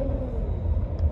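A car cruising along a highway in South Orange County gives off a low, steady rumble of road and engine noise from inside the cabin, continuous and unbroken, with no voices.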